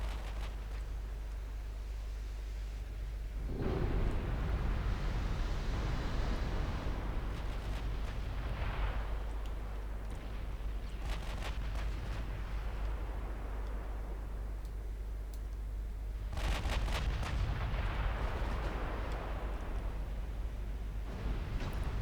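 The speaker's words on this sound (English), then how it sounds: "You should have watched out for my 16-inch guns." Heavy 16-inch naval guns boom in a naval battle in Ultimate Admiral Dreadnoughts, two big broadband blasts about thirteen seconds apart, each fading into a long rumbling roar, with steady low engine drone and no talk.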